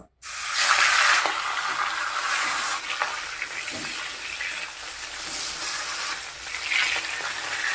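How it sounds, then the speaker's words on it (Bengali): Steady loud hiss of a fish head frying in hot oil, continuous and close, with a few faint clatters and no talking. "এখন আমি মাছের মাথাটা ভাজে নেব।"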